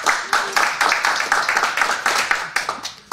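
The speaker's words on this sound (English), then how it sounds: "So a big round of applause to everybody." A conference keynote audience at Devday 2023 claps, a quick burst of applause with distinct rhythmic slaps close by, moderately loud and fairly sparse, tapering within a few seconds.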